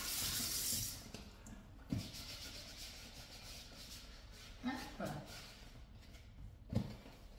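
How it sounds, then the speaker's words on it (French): Tap water runs into a kitchen sink as a ramekin is rinsed while making pastry cream, a steady hiss for the first second, then softer splashes and clinks as the dish is handled, close by. "Je vais passer mon ravier que j'avais à l'eau."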